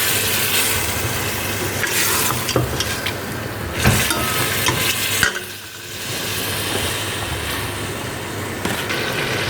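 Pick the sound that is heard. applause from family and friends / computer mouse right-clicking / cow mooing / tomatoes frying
tomatoes frying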